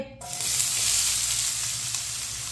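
Finely chopped onions hitting hot oil and frying for aloo bhindi: a loud, continuous sizzle that flares up right after a brief clatter and then holds steady on its own.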